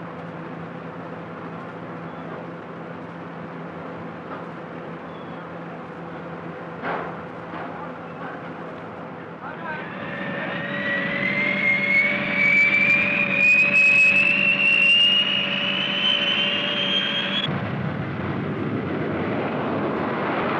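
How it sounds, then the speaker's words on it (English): A B-58 bomber jet flying as part of a strike force, a steady roar that swells around halfway through into a rising whine, then shifts into a lower rush near the end, with no voices. "Also part of this massive strike force is the B-58."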